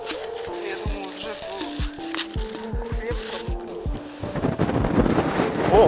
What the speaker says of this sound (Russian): Ого, тут ветер какой!